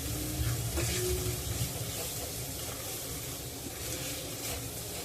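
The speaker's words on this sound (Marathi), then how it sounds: "आता या फोडणीत मी जितड्यात जी चरबी आहे ती घालत आहे चरबी ह्या मसाल्यामध्ये परतून घ्यायची आहे" Fat from a jitada fish sizzles steadily in an oil-and-spice tempering over a low flame, prepared for an Agri-style curry: a continuous close frying hiss with faint stirring scrapes and no voices.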